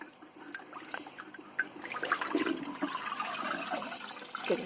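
Lava rock from a fish tank is rinsed under running water, a steady close splashing and trickling stream that swells slightly partway through and continues without speech.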